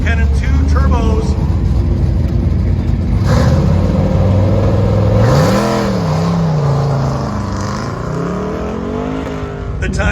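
Twin-turbocharged L83 5.3 LT V8 in a 1974 square body Chevy Blazer with Wilwood brakes on an autocross run, revving and rising and falling in pitch through turns, loud and continuous under an announcer's talk.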